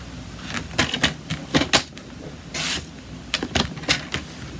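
A paper trimmer cuts a strip of cardstock to size with a run of close clacks and clicks, then a brief sliding swipe of the blade, then more clacks, with no talking.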